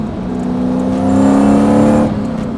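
A supercharged V8 drift truck engine drones steadily from inside the cab with windows closed, a sustained low hum and rising whine building slightly in the middle before easing off, with no talk.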